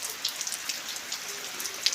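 Monsoon rain in a village falls as a steady, soft hiss, with scattered brighter drop taps close by.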